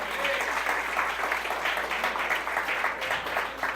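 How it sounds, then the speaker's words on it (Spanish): A church congregation at an evening service gives a strong round of applause to the Lord, a dense, steady wash of many hands clapping together from beginning to end. "¿Alguien le da un aplauso fuerte al Señor en esta noche?"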